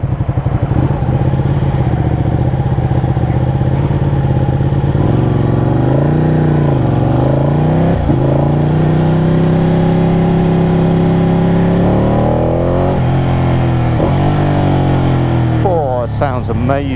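Ducati 899 motorcycle on a test ride, its engine droning loudly and steadily, then revving up and down in repeated swells with sharp throttle blips near the end, close and continuous with some talk over it.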